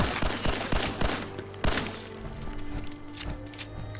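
Loud, close rapid gunfire erupts in the PC game Fallout 4 during a battle with a Mirelurk Queen: dense bursts of shots crack in quick succession, then thin out into scattered, echoing blasts.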